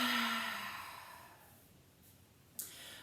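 An open-mouth exhale during a yoga breathing exercise, a soft, airy sigh that fades away over about two seconds, followed by quiet and a faint click.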